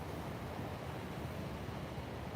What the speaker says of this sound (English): The ocean breeze.